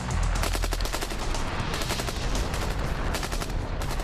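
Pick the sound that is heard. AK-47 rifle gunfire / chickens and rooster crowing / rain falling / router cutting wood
AK-47 rifle gunfire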